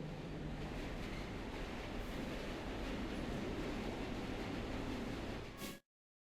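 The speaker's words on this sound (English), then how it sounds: "We have reached the end of the line where this train will terminate." A train in the video game Luna Abyss rumbles steadily along its rails as a constant, moderately loud roar that cuts off abruptly near the end.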